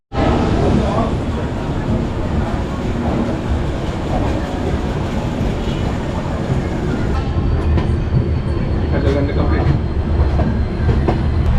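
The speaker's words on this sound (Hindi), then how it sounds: "तो गाइस हमारे ट्रेन रामपुर हाट से निकल चुके हैं" The Saraighat Express passenger train running on rails after leaving Rampurhat on the Howrah to Guwahati route gives a loud, continuous rumble and rattle of wheels and carriages, heard from inside a coach.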